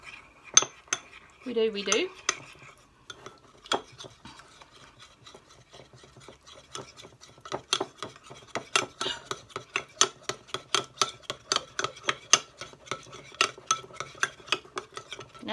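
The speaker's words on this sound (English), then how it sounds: "Now we're going to mix all that up." Ingredients being stirred and mixed in a bowl with a utensil for a bacon substitute recipe, producing rapid clinking and scraping taps that build into a steady rhythm, close by, with a brief spoken word early on.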